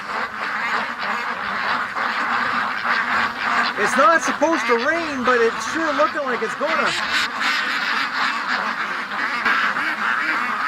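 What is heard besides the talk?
agitated ducks quacking in the wind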